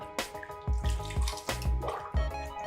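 Soaked cassava slices are lifted and drained from a container of water, giving close sloshing splashes and dripping in a few uneven bursts.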